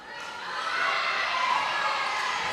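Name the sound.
volleyball team and student section cheering in gym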